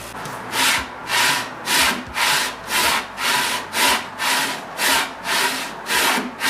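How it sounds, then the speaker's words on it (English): Plastic Rubik's Cube puzzle pieces rubbed by hand back and forth across an unpowered belt sander, producing about a dozen evenly spaced rasping strokes in a steady rhythm, close and clear with no talking. "Why am I sanding back and forth on a tool that requires power?"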